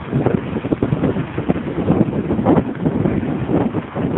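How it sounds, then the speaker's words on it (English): Strong wind buffets the microphone outdoors on a windy, smoggy day, a continuous rumbling, gusting roar that swells and dips throughout with no voices over it. "It's just been windy all day long."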